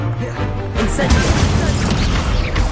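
Incendio fire spell cast in Hogwarts Legacy on PS5, a loud fiery burst with crackling roar that swells about a second in and keeps churning steadily to the end amid game sound.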